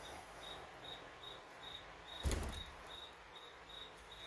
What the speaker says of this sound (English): You hear the crickets?